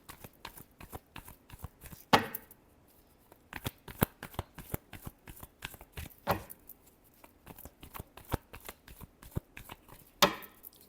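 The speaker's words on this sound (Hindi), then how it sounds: "Last shuffle." Playing cards shuffled by hand in repeated bursts of crisp riffling flicks and sharp slaps, close and dry, with brief pauses between shuffles over a quiet background.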